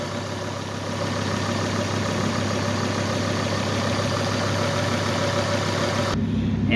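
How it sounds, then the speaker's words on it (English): A 2009 Volvo C30 engine idles steadily nearby, a constant low hum with a soft mechanical rattle that holds an even level throughout. "Now with the motor running"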